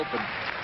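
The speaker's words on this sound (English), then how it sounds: "the crowd's trying to pump him up a little bit. They're clapping for him" A bowling crowd at a 1995 PBA Touring Players Championship in Pittsburgh claps steadily to encourage a player, a brief burst of applause mixed with crowd murmur.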